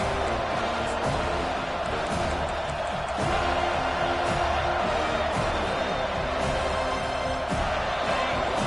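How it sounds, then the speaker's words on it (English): A packed football stadium crowd roars steadily on a fourth down, a loud, continuous wall of noise with sharp bangs and claps cutting through, while an announcer talks over it. "This crowd busting the decibel meter and trying to will a fourth down stop."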